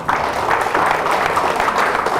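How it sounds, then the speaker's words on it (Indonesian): Audience applause during a public speaking class session, a brief, loud, steady patter of many hands clapping together. "Tepuk tangan"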